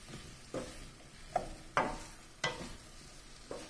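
Green chilies and vegetables sauté in a pan while a spoon stirs them, making a handful of soft scraping knocks spaced about half a second apart over a faint, steady sizzle.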